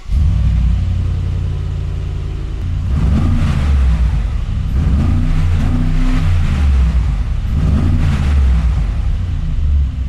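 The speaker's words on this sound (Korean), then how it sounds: "그 전에 배기음 한 번만 들어보셨나요? 굉장히 우렁찹니다" A Mercedes-AMG G63 G-Wagen's engine and exhaust rumble close by, starting from a low idle and then rising in a few deep, throaty revs that swell and fall.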